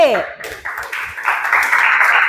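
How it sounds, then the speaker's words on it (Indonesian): Classroom applause for student group B at a junior high school in Batam, a short burst of students clapping that builds steadily, with a voice heard briefly at the start. "tepuk tangan untuk kelompok B"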